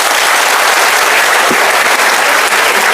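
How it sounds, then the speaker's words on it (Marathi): Loud, dense audience applause fills the whole stretch without a break, many hands clapping at once in a hall with no voices standing out. "टाळ्या एकदा जोरदार होऊ द्या."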